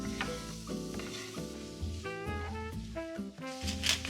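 Chopped garlic and onion sizzle in olive oil in a pan, a soft steady crackle running under prominent background music.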